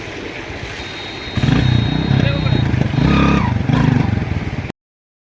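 A motorcycle with a seized engine runs up after a second of background noise, a loud close idle with a rough clattering buzz that holds steady. Voices talk over it.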